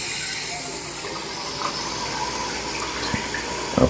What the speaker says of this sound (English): Okay, there's water running.